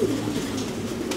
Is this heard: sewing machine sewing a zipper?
no